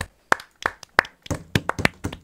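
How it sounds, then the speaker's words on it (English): Several sharp hand claps at an uneven pace, fairly close, like a small group giving brief scattered applause, with no talking. "Round of applause for the Oxford Dictionary"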